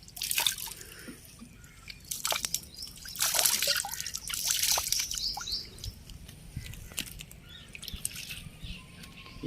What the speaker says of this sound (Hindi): अब जो है ना, हम इन्हें धो लेंगे अच्छे तरीके से